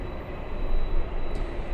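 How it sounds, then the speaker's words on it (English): A Delta Airlines Airbus A319 airliner flies at LAX airport. Its engines give a broad, steady roar that swells slightly and stays loud throughout, with no talk over it. "All right, we have Delta Airlines A319 flying to Portland."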